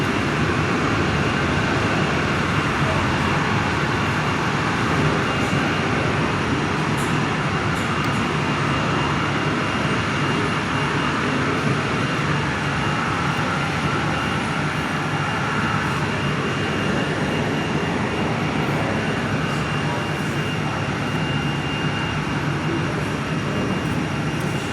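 A Boeing 737-800 Max taxis toward the big runway at Perth airport, its jet engines giving a steady, broad, continuous roar at moderate distance with no pauses or talk across the whole stretch.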